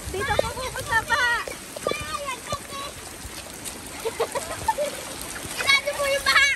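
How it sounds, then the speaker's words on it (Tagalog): Floodwater flows and splashes during typhoon Carina in San Antonio, Quezon, a steady watery rush under a person talking throughout. "Kita niyo po ang baha. Yan po ang baha. Bahang-baha po."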